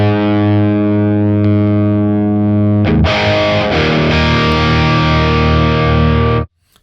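Electric guitar running through a JHS Haunting Mids midrange pedal, toggle set to low, into an amp: a loud sustained distorted chord rings, then is re-struck around the three-second mark with a brighter, denser tone, sustaining before stopping abruptly.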